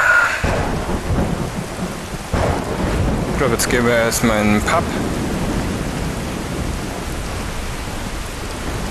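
Heavy rain pours steadily in Skyrim VR with rolling thunder, a loud crack of a thunderstorm rumbling midway; someone speaks briefly over the downpour near the start.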